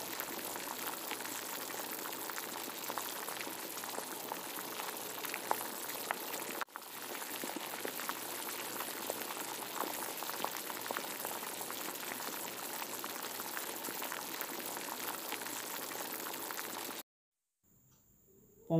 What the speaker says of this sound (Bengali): ঝোলটা ফুটে উঠলে